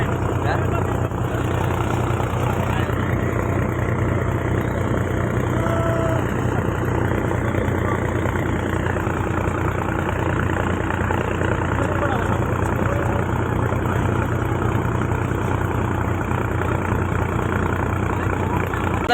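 A tractor idles in a peanut field, a steady low engine rumble that holds unchanged for the whole stretch, with faint muffled voices in the background.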